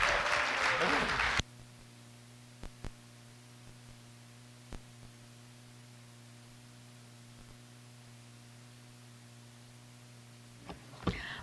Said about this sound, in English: How about another hand of applause for such fine, intelligent panel?